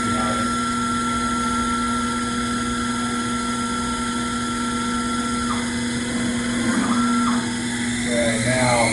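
A CNC machine spindle spins at 2,000 RPM, drilling soft wood and holding a loud, steady whine near the listener. The pitch shifts briefly a few times as the drill feeds into the wood.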